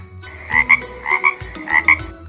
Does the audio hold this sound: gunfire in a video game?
no